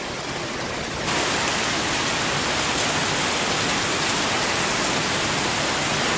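Heavy midnight rain lashed by storm winds, a dense steady roar that swells louder after the first second and holds constant, close and enveloping with no voices.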